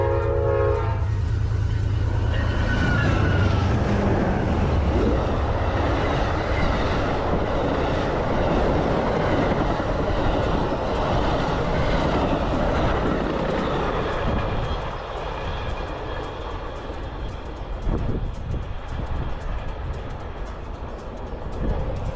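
An Amtrak passenger train passes at speed through tropical Florida with a horn blast at the start, then a loud sustained roar and rumble of wheels and cars that slowly fades, with no talking.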